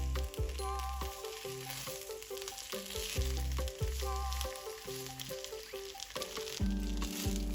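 Pork slices fry in a pan with a little added sesame oil as the fat renders, giving a continuous close sizzle broken by repeated scraping stirs and clinks of a utensil against the pan.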